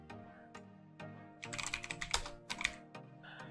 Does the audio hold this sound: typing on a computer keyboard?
yes